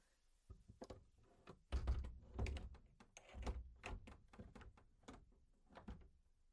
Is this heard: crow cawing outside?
no